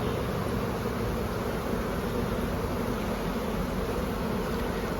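Honey bees in an open hive, with frames of honey and brood, hum as a dense, constant, close-up buzz throughout, with no voices.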